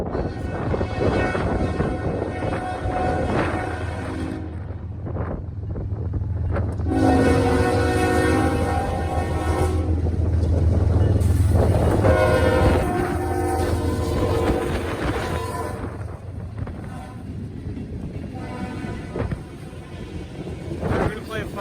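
A train passing in Muncie rumbles steadily while its horn sounds several long, loud blasts. Wind buffets the microphone and people talk over the noise.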